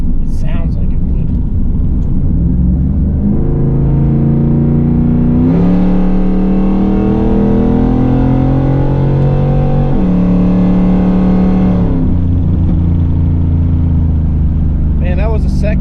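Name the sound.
Chevrolet Camaro Z28 engine accelerating and shifting gears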